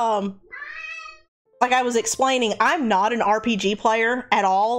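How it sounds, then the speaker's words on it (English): A pet cat gives a clear, drawn-out meow near the microphone, then a person talks over the remaining seconds of the short recording. "And that's my cat, sorry."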